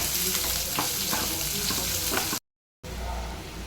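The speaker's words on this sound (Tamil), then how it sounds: "இப்போ வெங்காயம் நல்லா வதங்கிடுச்சு." Onions and garlic sauté in a pan for a yellow pumpkin kara kulambu, giving a steady close sizzle that cuts to silence for a moment and then resumes.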